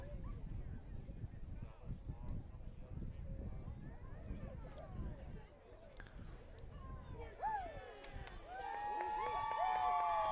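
The Susquehanna Valley home crowd at a high school football game against Windsor murmurs and chatters, then swells into louder cheering with whistles and shouts near the end.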